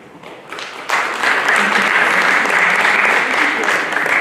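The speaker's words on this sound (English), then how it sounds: "You can clap for each one." Audience applause at a Math Honor Society induction ceremony, starting quietly and swelling abruptly into steady, sustained clapping from a room of people as graduates come forward to receive their cords.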